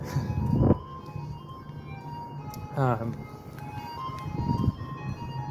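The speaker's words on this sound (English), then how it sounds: "There's the ice cream truck." An ice cream truck's tinkling chime plays over steady road noise and a passing engine, with people talking nearby.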